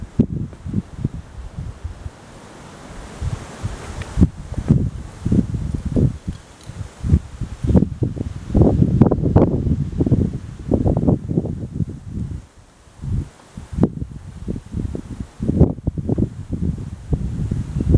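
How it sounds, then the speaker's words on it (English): Strong gusts of wind roar and rustle through leaves ahead of a thunderstorm in November, rising and falling in loud, buffeting surges against the microphone. "Oh, it's getting windy right now."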